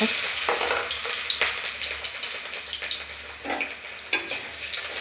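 Onions frying in hot oil in a home kitchen, a bright steady sizzle with occasional crackles and stirring scrapes, close up, with no talking.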